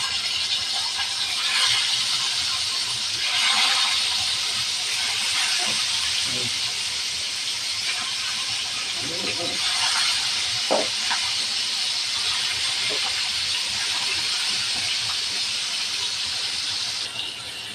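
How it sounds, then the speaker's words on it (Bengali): Fish sizzling and spitting as it fries in hot oil for a thin Bengali curry with drumsticks and potatoes, a steady broadband hiss lasting throughout with occasional crackles, close and fairly loud. "তেল গরম হয়ে গেছে দিয়ে দেব মাছ"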